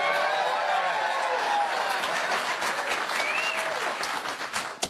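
Studio audience applause on a late-night talk show, a dense sustained burst of clapping that holds steady at full strength, then thins slightly near the end.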